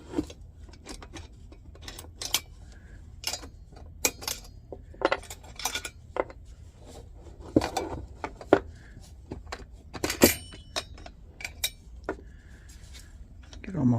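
Parts of a metal cook kit for a Russian Red Army stove clink and clatter as they are handled and pulled apart, a run of close, irregular metallic knocks and jingles with a speaking voice now and then.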